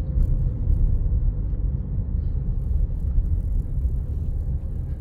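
A manual car accelerates on a town road during a driving lesson, a steady low engine rumble and road noise heard from the cabin, fairly loud with faint rattles and no talk.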